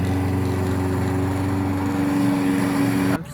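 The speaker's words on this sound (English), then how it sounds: "I'm watching him mow the grass." Lawn mower mowing grass nearby, a loud steady engine drone with a constant hum that cuts off abruptly near the end.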